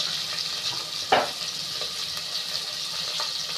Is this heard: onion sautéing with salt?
yes